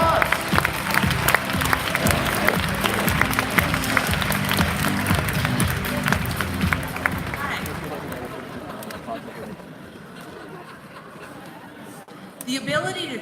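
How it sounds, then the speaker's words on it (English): Audience at the iGEM Giant Jamboree 2018 awards ceremony applauding the keynote speaker, loud crowd clapping mixed with chatter and cheering that gradually thins and fades. "Give her a warm round of applause."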